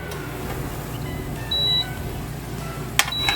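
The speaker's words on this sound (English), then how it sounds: "I'm actually gonna stop the air fryer" An air fryer beeping as it is stopped during cooking: a single steady electronic tone, then a sharp click and a second short beep, set against a quiet kitchen hum.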